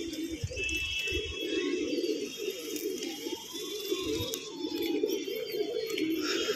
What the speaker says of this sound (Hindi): ये देखिए कबूतर हमारे खुल रहे हैं